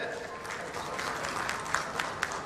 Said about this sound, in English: So a huge round of applause for team Innomotics, please